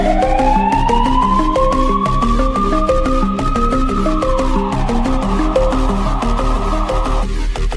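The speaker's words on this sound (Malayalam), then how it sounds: "ഞാൻ അയാളെ പേടിപ്പിക്കാൻ മൊബൈലിൽ പോലീസിന്റെ സൈറൻ ഇട്ടതാ" A police siren plays from a mobile phone during a stage skit, its wailing tone rising and then holding steady, loud and continuous over a low hum.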